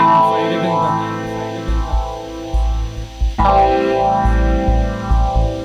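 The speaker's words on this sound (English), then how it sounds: "And you've got just that noisy guitar loop." A looping electric guitar drenched in distortion and sweeping effects, buzzing and noisy with rising and falling swirls, playing alone.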